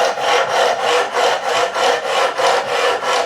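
Guitar frets being levelled with a file, loud close rhythmic long strokes about every half second, a steady back-and-forth rasp with no talking.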